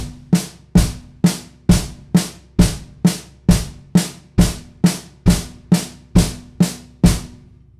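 Single strokes on a snare drum leading with the left hand while the bass drum joins, a steady run of about fourteen evenly spaced, punchy hits, near and loud with no voices.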